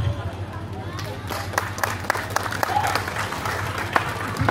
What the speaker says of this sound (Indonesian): kasih tepuk tangan yang mulia